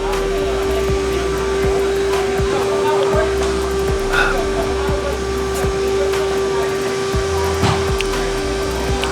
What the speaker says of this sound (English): they're doing like some vacuuming over there